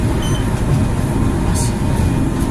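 Breda VLC tram on the Lille network coasts without traction while passing an electrical section change, giving a steady low rolling rumble with a brief high squeal, close up inside the cab.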